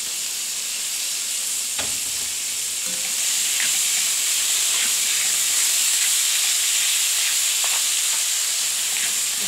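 Leftover adobo sizzling in a frying pan, a loud steady hiss of hot oil with a few sharp spatters and crackles, close up and without talk.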